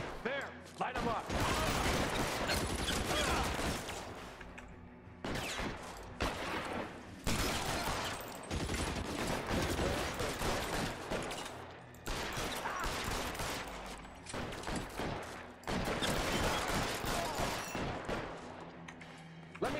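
Sustained video-game gunfire during a shootout with police, dense overlapping bursts and automatic fire filling nearly twenty seconds with brief lulls, loud and close, with some voices mixed in.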